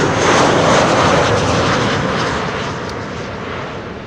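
A Transavia airliner arriving at Amsterdam Schiphol Airport on a sunny day roars loudly and close, its engine noise holding strong before slowly easing as it passes.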